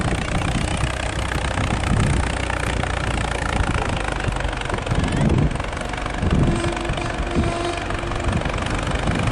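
A vintage McCormick Farmall tractor engine roars steadily under load in a tractor pull, a continuous loud chugging drone with slight shifts in pitch as it strains onward.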